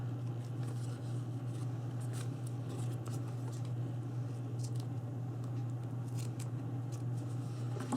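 Scissors quickly snipping off paper tails while making a Candy Cane paper bag mini album, faint close cuts over a steady low background hum.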